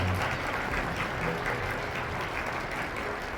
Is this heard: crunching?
no